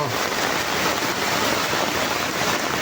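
Loud, steady rush of turbulent flood water churning without pause beneath a new bridge, a dense roar with no voices.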